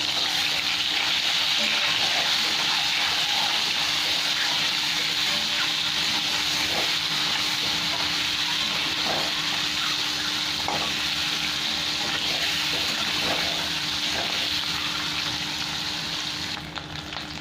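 Eggs fry in hot oil in a pan, a loud continuous sizzle with occasional light scrapes and taps as they are turned over, steady throughout.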